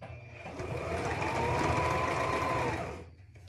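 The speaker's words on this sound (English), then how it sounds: "now I'm gonna sew this little hat" A sewing machine stitches a child's hat at a 5/8 seam setting, a steady close whirring run that swells in over half a second, holds for about two and a half seconds, then stops, with no talk over it.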